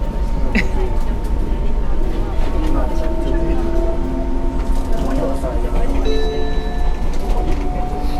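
Interior rumble of a crowded Enoden electric train in Kamakura, with a steady low drone, faint tonal whines and rattles, under passengers' voices.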